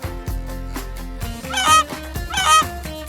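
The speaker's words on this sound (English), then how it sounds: "It's a goose." A goose gives repeated loud, nasal honks in a short run of calls, close and clear, with no talk over them.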